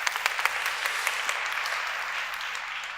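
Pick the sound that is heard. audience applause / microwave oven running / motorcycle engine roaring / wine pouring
audience applause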